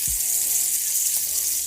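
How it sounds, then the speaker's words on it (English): A short, bright sizzling sound effect, a steady crackling hiss heard loud and close, opening with a low thump and with no talking over it. "Insert sizzle out noises here."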